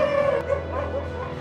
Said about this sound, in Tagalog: Tuwing alas 6 ng umaga, umaalingaw-ngaw ang anulong ng mga aso.